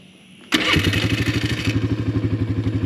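A hot Polaris Scrambler 500 H.O. ATV engine cranks and catches after a brief quiet moment, then settles into a loud, lumpy, pulsing idle close by.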